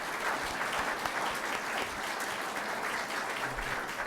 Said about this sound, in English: Please give Irv Gellman a round of applause.